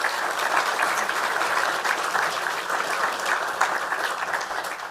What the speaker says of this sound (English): please join me again in a huge round of applause to thank them for their support